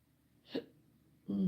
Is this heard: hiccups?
yes